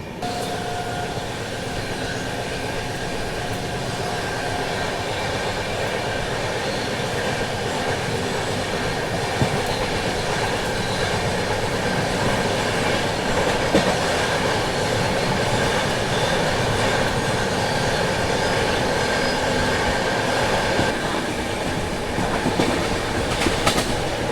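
Trivandrum Rajdhani Express running on rails, heard from inside a first class coach: a steady, continuous rumble with rhythmic clickety-clack of wheels over rail joints, loud and unbroken throughout.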